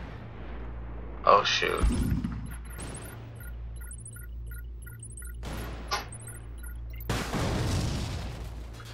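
A Stinger missile blast in the video game War Tycoon, a sharp boom near the start followed by rumbling game noise and a few more thuds, with a player talking briefly over it.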